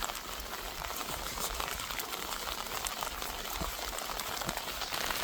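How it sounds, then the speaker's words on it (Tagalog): Steady rain from Typhoon Kristine pours down in a dense, even hiss of drops hitting surfaces, continuous and close, with no voices. "inabot na ulit tayo ng ulan"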